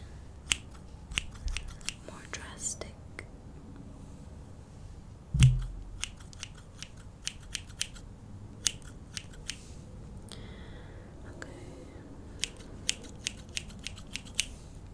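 Scissors snipping hair during an ASMR shag mullet haircut, close and quiet, with scattered sharp crisp snips and clicks and one louder thump midway, no talking.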